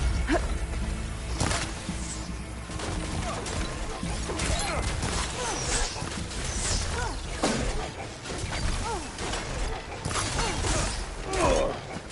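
Combat against a shotgun machine enemy in the video game Horizon Forbidden West: a dense, continuous clash of mechanical clanks, crashes, creaks and sharp whacks, loud and busy throughout with bursts of impacts.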